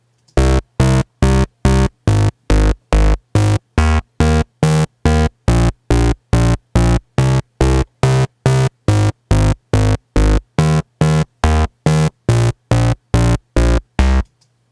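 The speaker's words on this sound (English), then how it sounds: "The bass should sound something like this." A trance bass synth line made in Reason with soft clipping pulses in a fast, even stream of loud, buzzy staccato notes for about fourteen seconds, dense and punchy, with no voices.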